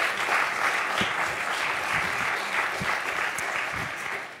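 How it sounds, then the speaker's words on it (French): Sustained applause from a television studio audience, dense and steady throughout at a fairly loud level, with no talking over it. "On peut applaudir cette belle histoire."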